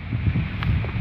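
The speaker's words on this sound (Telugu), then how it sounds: "చూడండి మంచి గాలి" Wind gusts buffet the microphone outdoors among trees beside an isolated countryside house after rain, a low, uneven rumbling rush with no other sounds.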